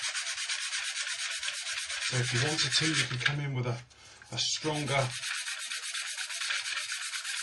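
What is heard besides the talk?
sanding glue seams on a plastic model kit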